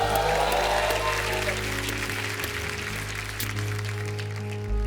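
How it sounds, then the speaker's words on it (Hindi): An audience at a comedy show applauds, a dense steady wash of clapping over low music that continues at an even level throughout. "जोरदार तालियां।"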